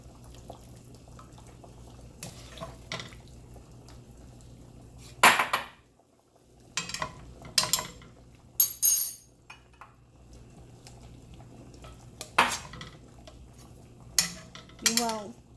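Shrimp lifted out of a hot pan, heard as close metallic clinks and scrapes of a utensil against cookware. Several separate bursts are spread between quiet gaps, with faint water and dripping sounds in the background.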